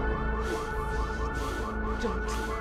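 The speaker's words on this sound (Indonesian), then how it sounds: "Mendengar suara alarm mobil, Dom mengira jika itu adalah Apex." A car alarm blares continuously with a wavering, cycling electronic tone, loud and steady throughout with no voices.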